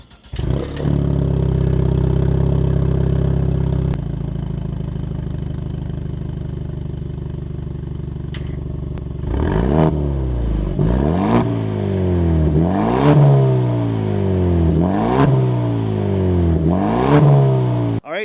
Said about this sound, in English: since this does have the upgraded exhaust system, let me show you what that sounds like